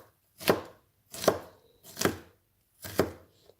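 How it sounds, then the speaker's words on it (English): A knife chops ingredients for Taiwanese pulled beef buns (gua bao) in four firm, evenly spaced strokes on a board. The chops are close and crisp, with quiet gaps between them and no talking. "So I'm going to chop this up"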